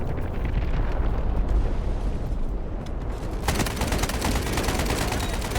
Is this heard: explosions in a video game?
yes